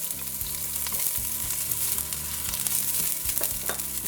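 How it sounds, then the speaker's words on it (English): Chopped onions hit hot oil with browned fenugreek seeds, sizzling loudly and steadily in a pan throughout, with faint stirring knocks and no voices. "now that the seeds are brown, I'm going in with my chopped onions"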